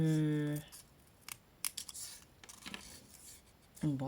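Scissors snip through paper while making a paper rosette craft, a few crisp cuts spaced across the moment with speech at the start and end.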